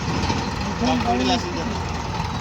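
A large tractor engine rumbles steadily at idle, close by, while a person talks over it.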